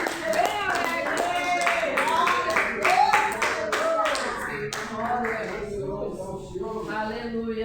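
A church congregation claps along during a joyful morning worship service, rhythmic handclaps under sung voices and music, steady and close throughout.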